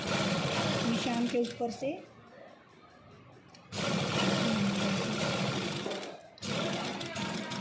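A sewing machine stitches a simple shirt in loud, rapid mechanical bursts, pausing for a couple of seconds mid-way before running again, while someone talks over it.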